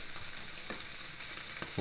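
Partridge pieces sizzle and brown in a hot pan, a steady bright hiss with a few soft clicks as they are turned.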